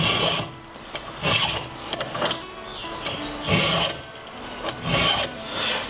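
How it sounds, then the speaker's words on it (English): A round chainsaw file rasps by hand against a chainsaw chain in repeated short strokes, roughly five or six scraping passes with brief pauses between, close and clear, no talking. "use a chainsaw file. I do it freehand"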